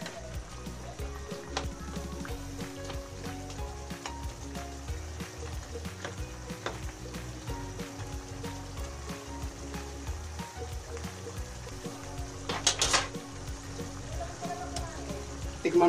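Pork liempo sauce sweetened with a tablespoon of brown sugar boils in a pan, giving a steady low bubbling and sizzling simmer throughout, with a brief louder hiss near the end.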